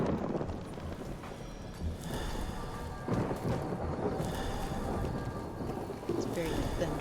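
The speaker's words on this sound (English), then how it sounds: "It's very thundery and stormy tonight in Good Springs." Thunderstorm at night in Goodsprings within a video game, with broad rumbling thunder and rain-like noise filling the whole stretch and swelling in several heavier surges, while a voice talks over it.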